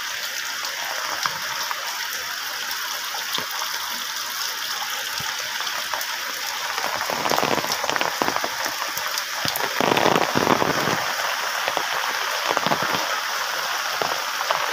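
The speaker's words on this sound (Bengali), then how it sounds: "এইদিকে আপনার স্কুলের মাঠ থেকে আমি দেখাচ্ছি অনেক বেশি বৃষ্টি হচ্ছে" Heavy rain pours onto a waterlogged school field in flood-hit Noakhali, a dense continuous hiss of drops on standing water that swells louder midway, with no voices.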